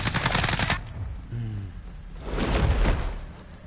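Automatic gunfire in Call of Duty: Warzone rips out as a fast burst at close range, then a second sustained volley follows after a brief lull with some thuds.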